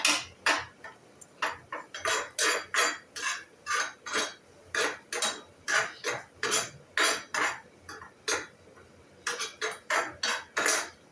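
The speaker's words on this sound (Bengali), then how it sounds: "একটু নেড়ে নিলাম" A metal spatula scrapes and clinks against a pan in quick, steady strokes while grated coconut fries, the sharp rhythmic clatter close and moderately quiet with no talking.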